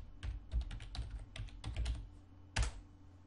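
Typing on a computer keyboard into a browser address bar: a quick, close run of clicky keystrokes in short bursts, then a pause and one firmer final key press, with no talking.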